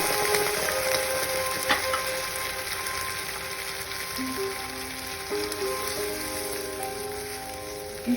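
Pumpkin simmers in a pan after thin coconut milk is added, giving a soft, continuous bubbling sizzle throughout, with faint clinks of utensils.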